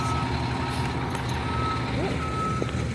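A bus backing up outside the arena before an NHL playoff game sounds a steady series of reversing beeps. The beeps cut through a loud, constant rumble of traffic and engines.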